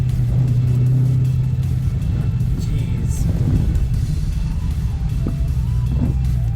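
Supercharged engine of a 2020 Dodge Challenger Hellcat Redeye Widebody rumbling loudly and steadily from inside the car while driving in rain, with a brief exclamation over the continuous low drone.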